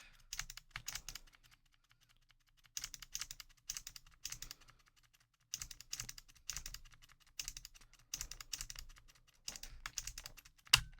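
A rose gold Nintendo DSi XL game card is pushed into and pulled from its slot over and over, making short bursts of crisp plastic clicks separated by brief silences, with no talking.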